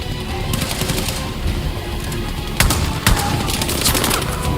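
Heavy automatic gunfire in the video game Battlefield 6, a loud continuous fusillade of machine-gun bursts with a few sharper, booming shots cutting through the close, dense barrage.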